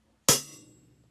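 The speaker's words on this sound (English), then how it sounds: "The highest notes on the stave with crosses represent the closed hi-hat" One crisp closed hi-hat strike on a drum kit, a short bright tick that fades quickly, close and isolated with no other sounds.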